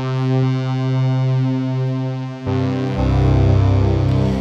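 Bright synthesizer tones hold and shift, then a denser buzzy pattern kicks in with repeating pulsing steps, electronic and upfront.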